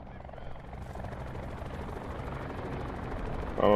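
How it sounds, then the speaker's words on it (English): A helicopter in the video game Call of Duty: Black Ops 4 gives a steady, loud whirring rotor chop that runs throughout, with a brief louder burst at the end. "there's a chopper up on the hill"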